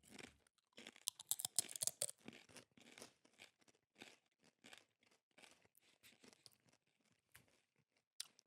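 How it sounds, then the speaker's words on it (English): People eating crunchy chips, with close, loud rapid crunching and chewing that comes in dense bursts at first and then thins into scattered bites, with no talking. "We're just eating chips."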